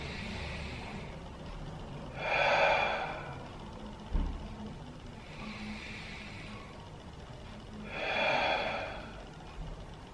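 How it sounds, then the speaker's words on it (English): Slow, gentle breathing during an upper body stretching routine, with three long airy breaths spaced evenly a few seconds apart, heard close and without talk. "And again, we'll just gently breathe."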